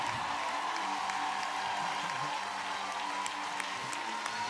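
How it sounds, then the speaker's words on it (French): Sustained applause from a large crowd, a dense, even clatter of clapping with occasional whoops, filling the whole stretch without pause, at a performance by a rapper. "Applaudissez-le très très très très très très fort."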